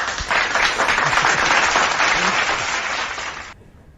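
A crowd-applause sound effect from a soundboard, with dense, steady clapping close up for about three and a half seconds that then cuts off sharply.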